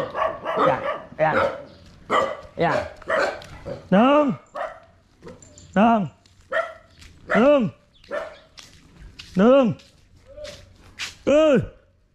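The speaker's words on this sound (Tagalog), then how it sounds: "Dami aso." Several dogs bark in Bucana, a run of loud, close yelping barks about every two seconds, mixed with people talking nearby.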